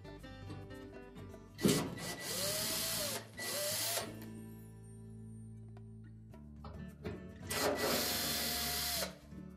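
A power drill whirs in two long bursts, spinning out 5/16 screws from the base of a Whirlpool washer during drain pump replacement, with a quieter mechanical hum between and a third burst near the end; no one speaks.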